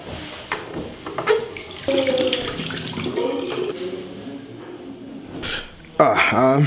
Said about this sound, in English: Let me go wash my face first.